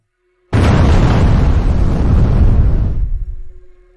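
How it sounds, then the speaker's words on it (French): A ship explosion: a sudden loud boom bursts in after half a second of silence, roars as a sustained, dense rumble for about two and a half seconds, then fades away. "le navire a été secoué par une forte explosion"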